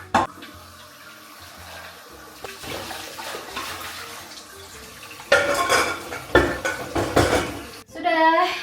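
Dishes are washed by hand at a home kitchen sink in Germany, with running tap water and repeated clinks and clatters of plates and cutlery, growing louder and busier toward the end.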